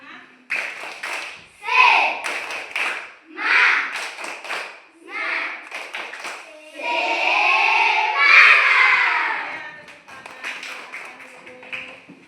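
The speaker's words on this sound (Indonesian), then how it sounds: "Tepuk semangat." Schoolchildren in a classroom perform a rhythmic spirit clap chant, bursts of patterned clapping alternating with loud sung and shouted voices, close and lively, led by a teacher during a morning lesson routine.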